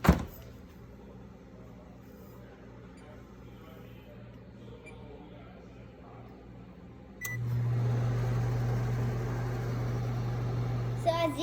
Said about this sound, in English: And yeah, you just put it in the microwave.